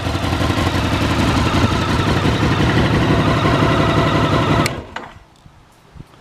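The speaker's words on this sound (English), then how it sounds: "Really lovely sounding exhaust, that Scorpion." Honda VFR 1200 motorcycle fitted with a Scorpion exhaust idling close by, a steady, dense throb that holds level for several seconds, then cuts off abruptly, leaving near silence with a faint knock.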